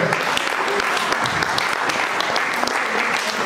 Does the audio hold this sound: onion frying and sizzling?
no